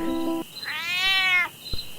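A blue-eyed cat lets out a single drawn-out meow, close and clear, after a brief steady tone and before a soft thump.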